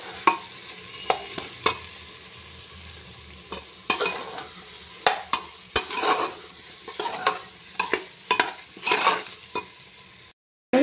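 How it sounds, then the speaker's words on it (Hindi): Jackfruit curry sizzling in a pan while a spoon stirs it, making repeated scraping taps over a steady fry, close up with no talk, and the sound cuts out briefly near the end. "मैं सॉल्ट भी ऐड कर रही हूँ और अब भूनूंगी मैं।"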